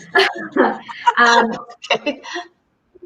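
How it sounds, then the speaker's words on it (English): A puppy yaps and barks indoors in a handful of short, sharp bursts spread over a few seconds, close to the microphone, before falling quiet. "sorry, that's my puppy."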